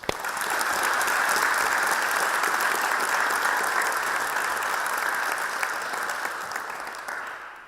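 An audience applauds to welcome panelists at a Bangladesh panel discussion, a dense, steady wash of clapping that swells quickly, holds for several seconds, then fades.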